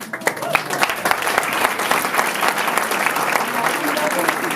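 Sustained, dense applause from an audience at an awards ceremony, loud and steady throughout with no talk over it.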